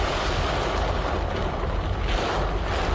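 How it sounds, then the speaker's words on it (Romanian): A heavy city downpour, rain pounding so hard that traffic stopped, comes through as a dense, loud, unbroken rushing roar with gusty wind-like noise buffeting the microphone throughout. "A plouat însă atât de tare încât șoferii au fost nevoiți să se oprească în trafic pentru că nu mai vedeau nimic"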